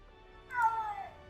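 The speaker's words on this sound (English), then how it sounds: "Oh, the cat Ankylo is tearing around again." A pet cat named Ankylo lets out a single drawn-out, complaining meow in a quiet room, moderately close and heard alone.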